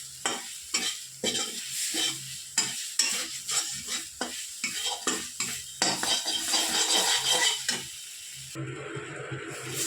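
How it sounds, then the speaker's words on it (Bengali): Chilli powder masala sautés in a pan for a paneer vegetable curry, with steady sizzling under repeated scraping strokes of a spoon against the pan in an uneven rhythm, close and fairly loud, with no talking. "একটু অল্প পরিমাণে লঙ্কা গুঁড়ো দেবো, দিয়ে একটু মশলাটা কষিয়ে নেব।"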